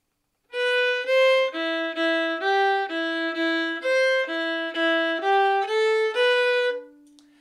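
Solo fiddle plays the opening two phrases of the Irish jig Geese in the Bog: a steady run of clear, bowed notes in even rhythm, close and bright, ending on a held low note with no talk.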